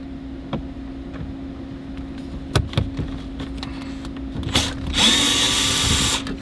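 A power drill works on a screw in the dashboard of a 2016-2018 Nissan Altima, with a few short clicks and bumps before a loud, close whirring burst near the end over a steady electrical hum.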